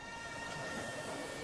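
Train rumbling in an anime scene from Chainsaw Man, a continuous dense roar that holds steady throughout with no voices.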